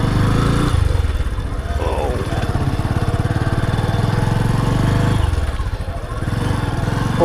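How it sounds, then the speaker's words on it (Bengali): An off-road vehicle's engine drones and revs steadily while its wheels churn and skid through deep sand on a rural track in winter, close and loud, with someone talking over it. "আমার চাকা প্রচুর স্কিড করতেছে বালুর মধ্যে।"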